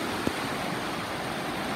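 Sea water at a beach on Cat Ba Island, Vietnam, washes steadily around wading feet, a close, even rush of surf with one brief knock near the start and no talking.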